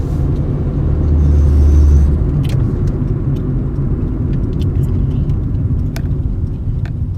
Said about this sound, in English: my heat shield is loose and rattling around